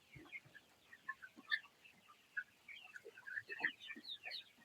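Sonali chickens on a poultry farm cluck and chirp in scattered bursts, several birds close by, faint overall, with no talk.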